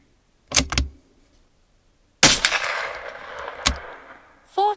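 A Tikka T1X .22lr rifle firing Remington Yellow Jacket rounds gives sharp, close cracks, one early shot, then a louder report with a lingering echo and a further crack, followed by a metallic bolt clack.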